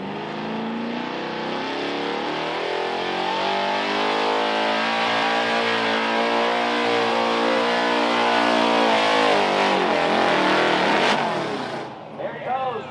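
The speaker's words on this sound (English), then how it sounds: "It's a hell of a good truck, too. You're going to hear it here." Truck pulling engine roaring at a tractor and truck pull in Paw Paw, Illinois, holding a loud sustained drone under heavy load with shifting pitch, fading near the end, with an announcer talking over it.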